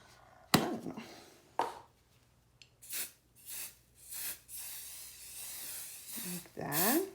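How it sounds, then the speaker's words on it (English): Adhesive spray is sprayed onto fabric on a cutting mat in a series of short, close hissing bursts separated by pauses, with sharp handling knocks near the start and a voice briefly heard at the end. "And I guess you spray the fabric."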